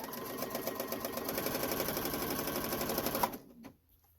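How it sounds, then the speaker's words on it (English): A sewing machine stitches quilt motifs onto small fabric squares, a rapid, even mechanical chatter that runs steadily, then stops abruptly near the end, leaving near silence. "start sewing them on to these little squares"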